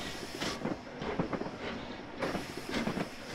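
Flying Scotsman steam locomotive in Train Sim 2020 with a class 57 diesel on the rear, heard as a steady rolling rumble with rhythmic clickety-clack of wheels over rail joints, continuous and fairly close, with no talking.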